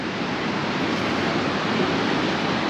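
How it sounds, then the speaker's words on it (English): Sea waves wash onto the shore beside a promenade with big steps at Paguera, Mallorca, a steady, dense rushing surf that is loud and continuous with no voices. "The sound of the sea, lovely, yeah."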